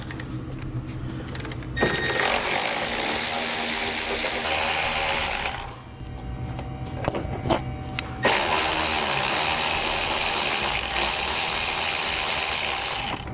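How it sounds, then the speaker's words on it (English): A 10mm socket wrench ratchets on head bolts of a 2018 Jeep base plate installation, rapid clicking runs in long bursts with brief pauses, close and fairly loud. "All of these are going to be 10mm head bolts, so we can grab a 10mm socket"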